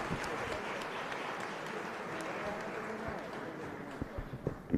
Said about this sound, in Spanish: Fuerte aplauso para esto.